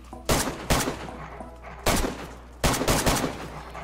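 Gunfire in the video game DayZ comes in four sharp, loud bursts, each a quick cluster of shots separated by short pauses.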